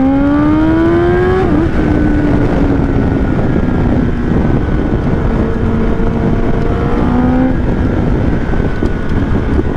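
A 2023 Kawasaki ZX10RR sport bike howls as it accelerates, engine pitch climbing then dropping sharply at each quick-shifter upshift with an auto blip, loud and close over steady wind rush, with no talk.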